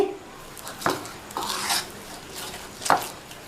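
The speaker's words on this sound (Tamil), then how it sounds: "இப்போ இதை நல்லா மசிச்சுக்கலாம்" A boiled, peeled large potato is mashed by hand, giving a few soft squelching rubs and scrapes spaced apart against a quiet background.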